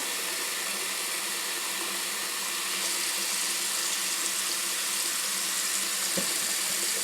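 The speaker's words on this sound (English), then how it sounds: "we're going to put some cold water, and we're going to fill up our pot about an inch above the eggs" Cold tap water runs steadily into a pot of eggs, a continuous close hiss and splash with little change, and a faint knock near the end.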